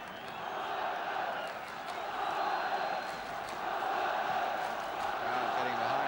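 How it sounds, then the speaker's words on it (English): A football crowd at a Tottenham Hotspur match roars in support, a dense continuous wall of shouting and cheering that swells and surges throughout. "Crowd getting behind Tottenham really now."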